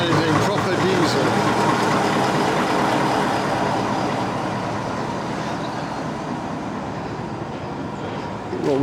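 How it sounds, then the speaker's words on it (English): A diesel train moves past at a distance, heard as a continuous low engine rumble and rolling rail noise that slowly fades across the span. "I can hear that there's a train on the move"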